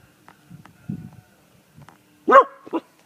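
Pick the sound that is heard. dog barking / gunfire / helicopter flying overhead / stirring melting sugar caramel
dog barking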